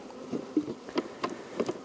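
Bees in an apiary hive on a very hot day give a faint, low hum, with brief louder buzzing passes and small knocks of hive frames being handled at close range.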